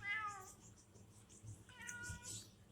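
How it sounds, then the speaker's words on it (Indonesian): A cat at a small roadside shop in the morning gives two separate meows near the mic, one at the start and another about a second and a half later, with soft background noise between them. "Terus ditemenin sama si Loren, kucing yang selalu setia nemenin."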